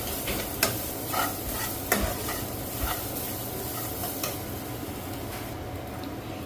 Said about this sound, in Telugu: కొబ్బరి వేసుకుని ఫ్రై చేసుకోవాలి.